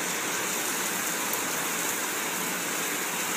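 Heavy Louisiana rain pours in a steady, dense hiss that stays loud and even throughout, with no voices and no breaks.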